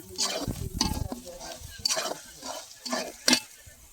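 Spoon scraping and stirring ground spices through a hot pan for a spicy chicken bhuna, with a few distinct scrape strokes over a soft underlying sizzle, close and moderately loud.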